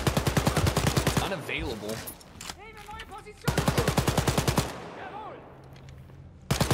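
Automatic gunfire in the video game Wolfenstein: Youngblood, rapid bursts of shots in loud repeated volleys, with a player talking over and between the bursts.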